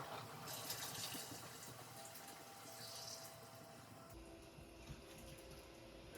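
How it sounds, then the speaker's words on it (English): Water poured from a kettle or pot into a canning pot holding jars of sauerkraut, a steady close splashing and trickling flow in a kitchen with no talk over it. "let's just go and pour that water in there"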